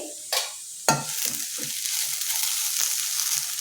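Cluster beans being stirred in a frying pan after salt is added, with two sharp scraping strokes of the spatula over a steady, soft sizzle of frying.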